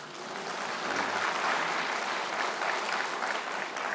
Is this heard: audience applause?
yes